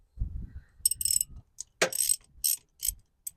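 A 10 mm ratchet works loose the negative terminal nut on a VW car battery. It gives short bursts of quick, close metallic clicking, with brief low rustles between them.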